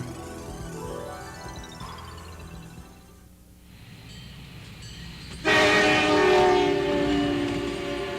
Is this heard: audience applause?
no